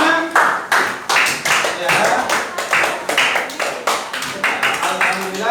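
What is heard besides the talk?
class clapping hands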